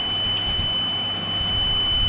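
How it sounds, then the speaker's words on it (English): The buzzer of a vibration sensor alarm system sounds as a steady, continuous high electronic tone over faint background hum, unbroken for the whole short stretch. "the buzzer is also going on as we can listen"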